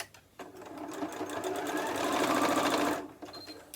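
A sewing machine stitches a quarter-inch seam across a star place mat, running in one steady, close whirring burst of about two and a half seconds before stopping.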